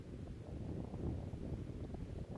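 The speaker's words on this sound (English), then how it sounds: "the wind's picked up" Wind gusts across an outdoor shooting range, a low steady rumble buffeting the microphone with soft rustling, fairly faint and continuous with no voices.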